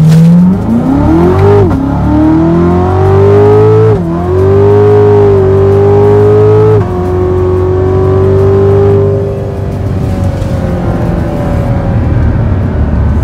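A 650-horsepower car with an automatic transmission accelerates hard and close. The engine climbs through loud revving pulls, drops briefly at each gear change, then settles into a sustained roar that fades toward the end.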